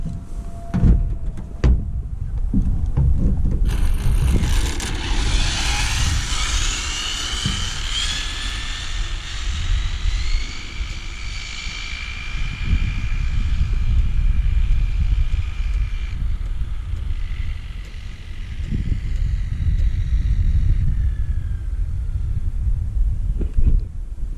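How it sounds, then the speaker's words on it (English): A drone whines continuously overhead, its high-pitched motor tone rising and sliding as it manoeuvres, over a steady low rumble of wind and nearby traffic. "Recording drone."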